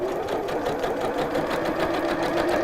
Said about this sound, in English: I'm going to take the tension right up as far as it'll go to number 9 on my machine, and then let's see what happens.